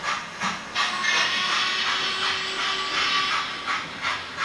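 Model steam locomotives chuff along a layout with rhythmic hissing puffs, fairly loud and close, repeating in steady bursts.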